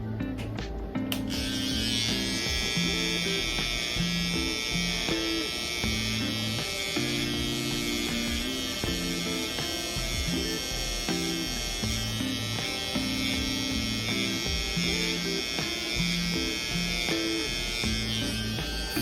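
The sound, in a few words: electric hair trimmer cutting hair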